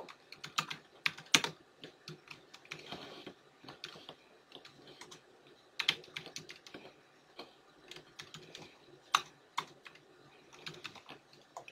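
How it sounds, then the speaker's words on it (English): Rapid, irregular clicking of keys on a computer keyboard, with bursts of repeated backspace presses, close and fairly quiet with short pauses between flurries. "Just gonna hit backspace a lot."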